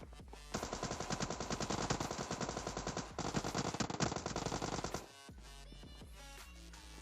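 Rapid automatic gunfire from PUBG Mobile Lite bursts loud and dense for about four and a half seconds with a brief gap, then cuts off, leaving quieter game sounds.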